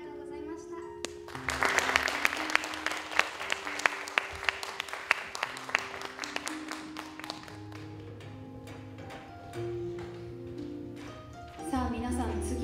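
An audience claps for a contestant at the Naha tourism campaign lady pageant in Naha's Bunka Tenbusu hall. The sharp, scattered claps swell, then thin out over steady background music, and a voice speaks briefly near the end.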